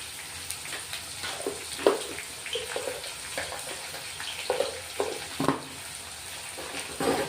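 Onions frying with salt in a pan at home, a steady close sizzle with scraping stir sounds and irregular louder bursts as the pieces are moved about.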